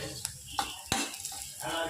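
Food being stirred in a hot oily pan, with a few sharp utensil clinks against the metal over a soft sizzle, close by and moderately quiet.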